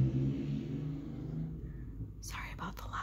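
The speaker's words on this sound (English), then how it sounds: "Sorry about the loud cars." Cars pass outside with a low, rumbling engine drone that swells and fades, heard through the room beside a soft-spoken voice.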